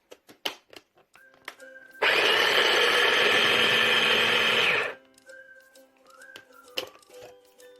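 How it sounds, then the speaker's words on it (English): A kitchen blender whirs loudly for about three seconds as it purees chickpeas with garlic puree for spicy falafel cakes, set between quiet clinks and small kitchen sounds. "The next stage is to add a teaspoon of garlic puree"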